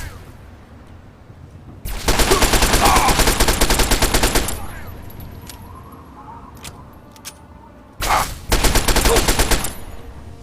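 Automatic gunfire in Fallout 3, two loud sustained bursts of rapid shots, the first lasting over two seconds and a second shorter one later, separated by quieter ambience with faint distant clicks.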